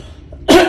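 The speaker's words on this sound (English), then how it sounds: "Sorry about the coughs." One sharp, loud cough bursts out close by after a short quiet stretch and trails off briefly.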